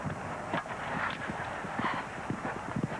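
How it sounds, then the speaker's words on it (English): Hooves of a show jumper clip-clop in quick, irregular strides across an international show jumping course, close and distinct, with crowd and arena noise in the background. "Really working the horse Da Vinci through that combination, but got through it"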